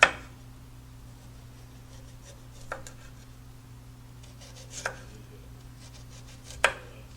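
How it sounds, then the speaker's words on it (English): A knife thinly slices large radishes on a cutting board. There are three or four distinct crisp cuts spaced a couple of seconds apart over a quiet, humming room, with no talking. "I've got some large radishes, and what I'm going to do is just cut off the end here, thinly slice them."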